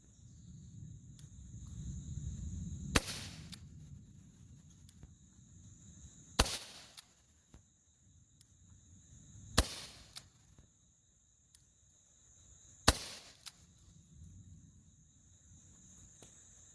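Four sharp CO2 pistol shots from a Crosman Triple Threat with an 8-inch barrel firing RWS R10 pellets, spaced a few seconds apart, each a crisp pop over a quiet outdoor background with a steady insect chirp.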